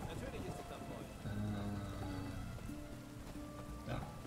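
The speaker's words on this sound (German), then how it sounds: "Es regnet." Rain falling in The Witcher 3: Wild Hunt, a steady patter on surfaces with game ambience and tonal hums layered over it, fairly quiet throughout.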